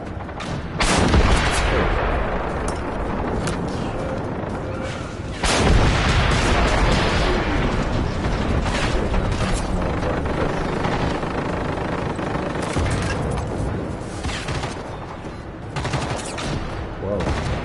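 Rapid rocket rounds and heavy weapon fire in a Cold War era combat video game, loud bursts of repeated blasts and booms dense throughout, with a sharp volley near the start and another around the middle.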